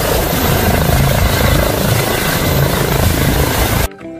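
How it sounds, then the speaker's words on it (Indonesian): A toy helicopter's steady, loud whirring buzz runs continuously at close range, then cuts off abruptly near the end. "ada helikopter"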